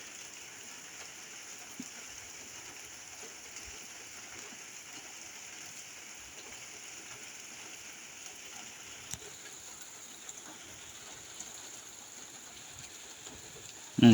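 Steady heavy rain pours over rice fields in rural Thailand or Laos, a dense continuous hiss with scattered drips and light splashes, with no voices.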